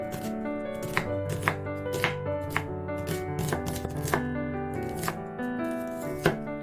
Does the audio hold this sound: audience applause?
no